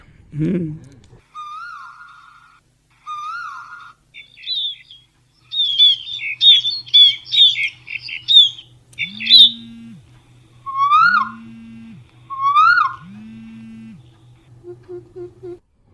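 Several songbirds chirp and sing in clear, repeated whistled phrases and trills, with a few lower hooting call notes near the end, heard alone and fairly close.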